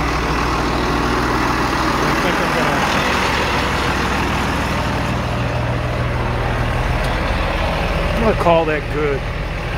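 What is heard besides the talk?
tractor engine running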